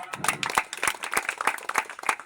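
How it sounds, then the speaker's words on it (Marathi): Loud, dense clapping from a crowd at a village underarm cricket tournament ceremony, with rapid overlapping claps sustained throughout. "जोरदार टाळ्या"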